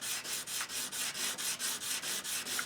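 Sandpaper rubs back and forth against the plastic bottom of a Yamaha SG331 guitar bridge piece in steady, even strokes, about a dozen close, soft scratchy passes with no talking.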